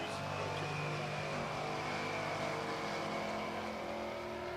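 A drag racing car at Pueblo Motorsports Park in Colorado, steady loud engine roar held throughout without a break, a dense broadband drone with no talk over it.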